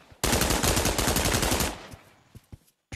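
In the multiplayer game TTT, a loud burst of rapid automatic gunshots fires for about a second and a half, then tails off into a few scattered single shots.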